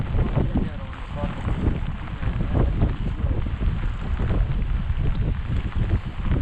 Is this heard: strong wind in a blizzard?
yes